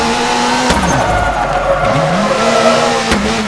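A rally car in the WRC 4 video game sliding through a handbrake turn, its engine note dropping and rising again under a loud tire skid, with sharp gear-shift pops, close and continuous.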